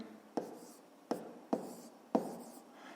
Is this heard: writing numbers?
yes